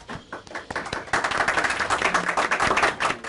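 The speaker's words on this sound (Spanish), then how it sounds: "por favor, pido un fuerte aplauso" An audience at an international seminar on alternative dispute resolution breaks into applause, scattered claps at first swelling into dense, steady clapping that fills the room.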